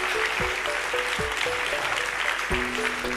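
Applause from a university auditorium crowd at a national science-communication final, a steady dense patter of clapping under a faint repeated tonal line.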